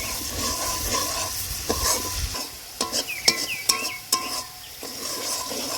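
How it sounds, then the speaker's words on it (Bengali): Ginger garlic paste sautéing in a pan for chicken rezala: a close, soft sizzle with scattered clinks and scrapes of stirring that grow busier midway. "এবার আদা রসুন বাটাটা দিয়ে দিচ্ছি আদা রসুন বাটা দিয়ে একবার নিয়ে নিচ্ছি"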